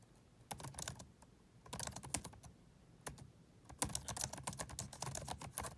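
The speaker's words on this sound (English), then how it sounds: "I have horrible typing because I'm looking through a phone as I'm typing this" Quiet, close-up tapping of typing on a phone comes in irregular bursts with brief pauses between them.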